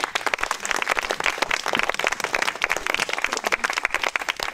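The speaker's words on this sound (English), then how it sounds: "You can give her a round of applause." A room of listeners gives a round of applause, brisk, dense clapping at moderate volume with no voices over it, sustained for a few seconds.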